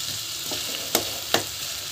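Spices, tomato and brinjal sauté in a pan with a steady moderate sizzle, punctuated by two sharp scraping stir strokes, no talking.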